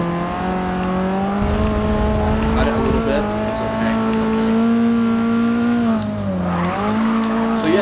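A Datsun drift build in Forza Motorsport 6 keeps its engine droning steadily and loudly, with tire squeal as it slides and a dip and recovery in revs near the end.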